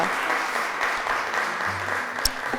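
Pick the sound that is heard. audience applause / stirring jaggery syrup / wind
audience applause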